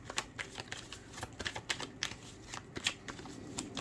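Tarot cards are shuffled steadily by hand, close and fairly loud, a quick irregular stream of crisp riffles and light taps. There is no speech.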